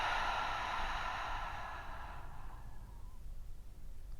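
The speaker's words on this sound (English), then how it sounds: "you breathe out through the mouth till you can't breathe out anymore" A long, steady breath pushed out through the mouth during a breathing exercise, close and breathy, fading into quiet room hiss after a few seconds.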